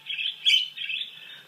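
A pet bird sings indoors, a close, bright run of chirps and warbling tweets with a brief louder squawk in the middle, heard alone.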